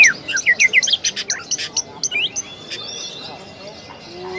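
Lovebird kept for song competition trilling in a rapid run of sharp chirps and squeaky notes, loud and close for the first half, then thinning to scattered calls over faint background noise.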